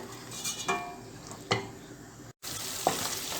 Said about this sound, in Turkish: İyice yağlarım da erisin. Soğanlarım kavrulsun.